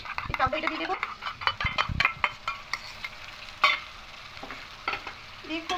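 Two spoons of whisked sour yogurt being stirred into a vegetarian pointed gourd and mung dal curry in a hot pan: close, busy scraping and clacking of the spatula over a soft sizzle, with a voice faintly present in places.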